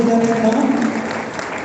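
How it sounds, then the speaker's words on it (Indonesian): An audience claps steadily at a university Bujang Gadis grand final, dense sustained applause filling the hall while a voice speaks over it. "Boleh tepuk tangan sekali lagi untuk Bunda Retno"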